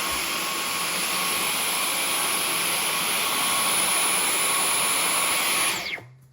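A Dyson V15 Detect cordless vacuum cleaner runs steadily at close range on a floor with a high, even whine and airy roar, cutting off abruptly near the end.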